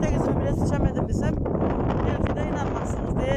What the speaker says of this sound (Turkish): Ne rüzgar çıktı